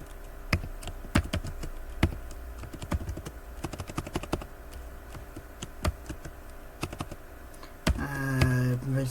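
Someone types on a computer keyboard in bursts of sharp, close clicks during a programming tutorial, then a short stretch of speech.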